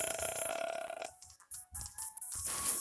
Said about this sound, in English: Or it sound like someone burped or whatever.